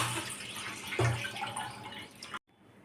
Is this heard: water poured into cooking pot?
yes